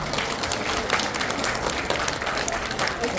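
An audience breaks into sustained applause, a dense patter of many hands clapping steadily with voices mixed in underneath.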